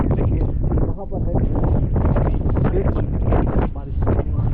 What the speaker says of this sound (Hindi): इस बारिश की वजह से जो है फॉग भी बहुत है, क्लाउडी भी है, बहुत हो रहा है और हवा बहुत तेज़ चल रही है